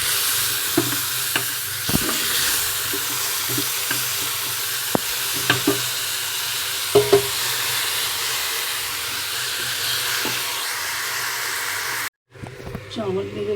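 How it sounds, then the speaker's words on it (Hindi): Meat frying with transparent onions in a pot, a steady loud sizzle with occasional stirring clinks and scrapes, then a brief cut and a fresh burst of frying. "अब हम गोश्त डालने जा रहे हैं।"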